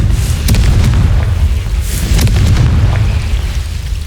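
Loud fire-spell explosions from Confringo in Hogwarts Legacy, two sharp blasts followed by rumbling booms and a roaring wash of sound, with no speech.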